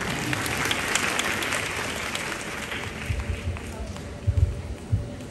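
Audience applause at a Vietnamese VIP event, a steady wash of clapping from a seated crowd with a few louder, closer claps near the end, while a host's voice carries over it.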